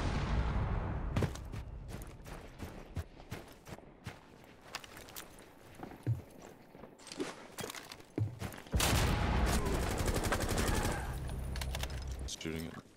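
Gunfire in the Rainbow Six video game: scattered sharp shots and bursts crack out irregularly, with a sustained loud volley of fire in the latter half and quieter footsteps between.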